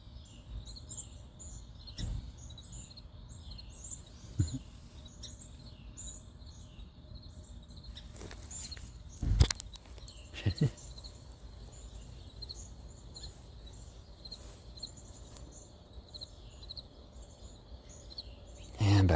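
Small birds chirp and tweet outdoors on a grassy walk, faint high calls repeating through the whole stretch, with a few soft thumps and rustles close by.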